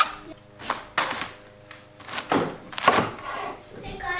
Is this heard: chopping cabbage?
yes